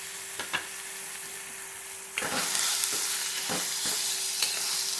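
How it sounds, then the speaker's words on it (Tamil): Tomatoes sautéing in a pan for a quail gravy, a steady sizzle that swells louder partway through, broken by a few sharp scraping stirs of a spoon against the pan; no talking. "தக்காளி நல்லா வதங்கட்டும்."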